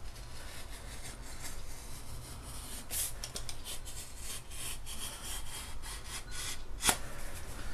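A blade scores a strip of telescope tube material in a steady close scratching rub with faint repeated strokes, ending in a sharper scrape near the end.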